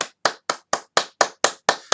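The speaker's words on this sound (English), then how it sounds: "much as I hate to applaud a team that's just beaten my team" Eight sharp, evenly spaced claps ring out at a steady rhythm at a quiz night, close and clear, with no voices.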